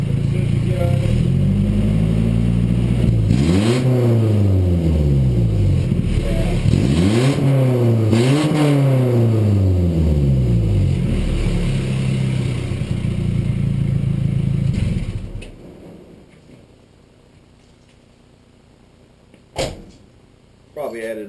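A Nissan D21 Hardbody truck engine fitted with a glasspack muffler revs hard in repeated rising and falling sweeps, loud and close with a deep rumbling exhaust, then cuts off abruptly to near silence with a few faint knocks at the end.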